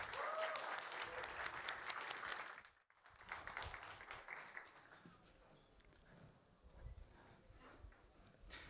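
Gentle applause from a tech conference audience rises as a soft patter of many hands, cuts off abruptly, then continues faint and scattered with background room noise.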